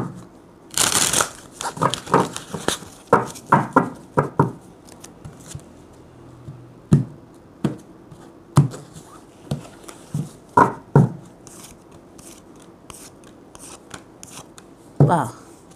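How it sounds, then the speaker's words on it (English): Tarot cards are shuffled by hand in a quick burst of riffles and taps, then in sparser, separate shuffles with short quiet gaps between them. "Final shuffle."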